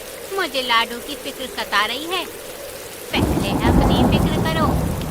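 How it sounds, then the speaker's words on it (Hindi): Heavy cartoon rain and thunderstorm noise becomes a loud, steady downpour roar partway through, after animated characters finish a short exchange of dialogue over quieter storm ambience. "ये बारिश है या कहर"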